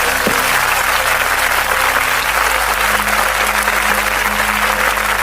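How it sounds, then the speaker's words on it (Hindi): A church congregation claps together in praise, a loud, dense and continuous burst of applause filling the room with no voices rising above it. "एक बार ऊपर ताली बजाएंगे यीशु जी के लिए।"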